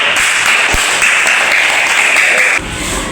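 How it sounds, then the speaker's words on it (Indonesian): A class of students clapping hands together at the close of a lesson, a steady loud burst of clapping that cuts off abruptly near the end. "Semuanya tepuk tangan semuanya"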